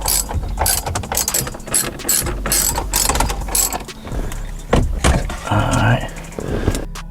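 A hand ratchet loosening the six 7mm bolts that hold the 8-inch screen in a Ford F150 dash, with steady rapid clicking in close bursts, then some clunks and rustling of parts.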